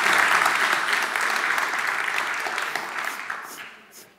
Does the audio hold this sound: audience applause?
yes